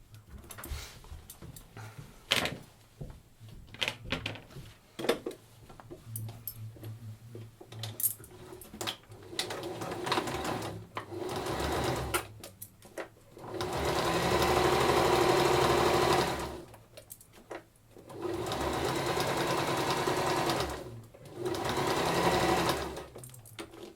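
A sewing machine stitches straight seams on a fabric drawstring bag. Scattered small handling clicks come first, then three sustained, even bursts of motor whir with short pauses between them.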